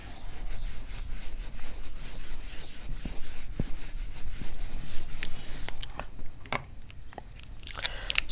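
Chalkboard or whiteboard being wiped clean in a classroom during a maths lecture on Cauchy-Euler differential equations, a steady close rubbing and scrubbing texture with a few sharp taps and knocks near the end.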